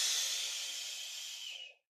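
A deep, drawn-out exhale during a guided breathwork exercise, a breathy hiss close to the microphone that fades gradually and cuts off after nearly two seconds, heard alone.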